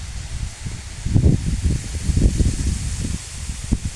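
Gusty wind buffets and rustles through farm crops nearby, coming in uneven bursts of low rumbling noise over a steady airy hiss.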